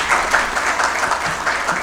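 An awards ceremony audience breaks into brief, loud, dense applause welcoming a pharmaceutical company's CEO to the stage, with no speech.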